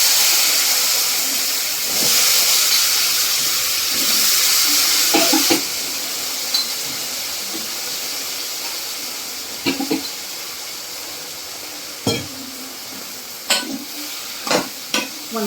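Brinjal pieces stirred in hot oil with turmeric and red chili powder give a steady close sizzle and hiss, broken by occasional scrapes and clinks of a spoon against the pan.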